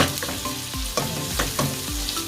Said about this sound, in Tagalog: Nagisa natin ng konti sa mantika. Ang ating karne at saka ang ating bawang.